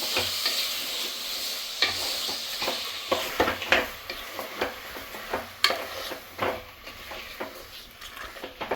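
Chicken frying with ginger garlic paste inside a pressure cooker is stirred with a metal spoon: steady sizzling under a series of sharp, irregular scraping knocks against the pot, close up, no talking.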